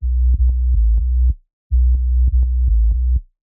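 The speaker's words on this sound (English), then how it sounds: "And then I've got a sub, which is the operator from Ableton." A single-oscillator sub bass from Ableton's Operator synth plays very low first-octave notes, loud and alone, in two short phrases of sustained tones with soft rhythmic note changes and a brief pause between them.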